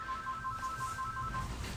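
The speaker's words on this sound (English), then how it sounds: "Hopefully that phone will stop ringing momentarily." Electronic telephone ringtone trilling in repeated short bursts of warbling tones, steady and moderately loud over a low background hum, with no talking.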